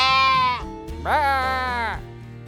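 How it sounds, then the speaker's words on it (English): Sheep grazing among vineyards in the Vaca Mountains area bleat loudly and close by, two long wavering calls one after the other with a short gap between them. "Those are sheep over there."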